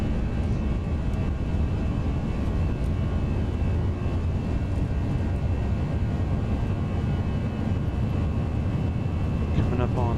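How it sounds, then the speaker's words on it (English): Airbus A320 engines spooling at takeoff power during the takeoff roll in the X-Plane 11 simulator, a steady loud jet roar and hum held throughout, with faint tonal whine on top. "Takeoff power is set, airspeed's alive."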